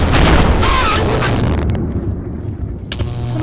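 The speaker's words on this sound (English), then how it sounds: "we're going to throw a frag grenade" A frag grenade blast in modded Minecraft, a loud booming roar with crackling debris that cuts off abruptly, followed by a brief lull and a smaller rumble.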